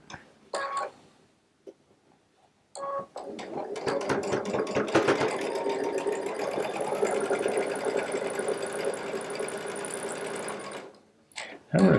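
A Baby Lock Solaris sewing machine pieces quilt blocks with a 1/4-inch piecing foot. A few short starts are followed by one long, steady, close run of about eight seconds with a ticking, rhythmic texture, then it stops.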